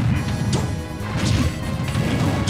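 Hits and impacts from a back throw in Super Smash Bros. Ultimate, with Ganondorf and Captain Falcon fighting: loud repeated smashing thwacks over a dense, steady bed of game noise, with no talk.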